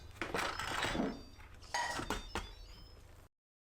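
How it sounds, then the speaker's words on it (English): An Instant Pot pressure cooker lid being opened after the pressure has released, heard as close metallic clanks and scrapes, a couple of distinct clatters followed by a short pause. "you can safely open up the lid"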